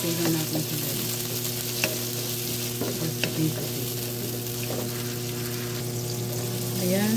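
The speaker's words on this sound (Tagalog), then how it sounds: "next you put the tomato. So i-saute na natin siya." Tomato sautéing in a hot pan for pancit bato, a steady close sizzle and fry hiss with occasional scrapes and stirring clinks throughout.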